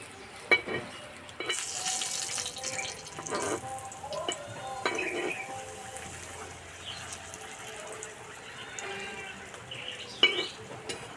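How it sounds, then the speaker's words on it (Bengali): A wheat flour and potato snack fries in oil on a hot tawa, giving a soft, continuous sizzle broken by occasional scraping and clattering stirs, heard close with no talking. "এবার ভেজে নেব।"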